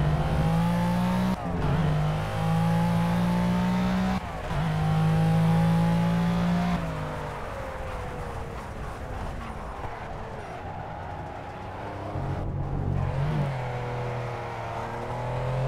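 Race car engine roaring in Project Cars, a racing video game, with loud rising revs broken by quick shifts, then a quieter stretch before building again.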